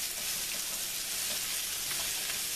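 Vegetables frying in a hot pan for Boston butt fajitas, giving a steady, close, dense sizzle that runs unbroken with no voices.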